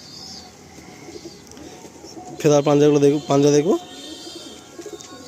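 A pigeon gives a loud, close coo in two bursts with a short break between, over a quiet room tone while someone talks before and after.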